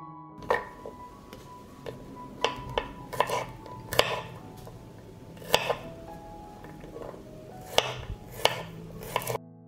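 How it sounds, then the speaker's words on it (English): Six garlic cloves chopped with a knife on a board, with crisp irregular chops spaced through the stretch, some in quick pairs, plus faint kitchen clatter in between. "I will chop 6 cloves of garlic."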